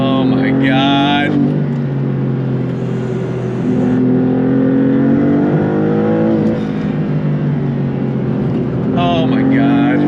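A 2024 Maserati MC20 supercar roars under hard throttle, its engine note climbing and falling through revs with steady, loud drive noise, while an excited voice exclaims over it.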